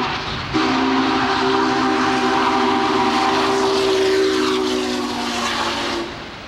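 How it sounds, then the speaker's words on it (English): Union Pacific 844, a 4-8-4 steam locomotive with 80-inch drive wheels, charges through Big Springs, Nebraska. It sounds a loud, sustained whistle over a heavy rolling rumble, with no voices. "The locomotive was operating magnificently as it charged through Big Springs, Nebraska on the final leg of its journey home."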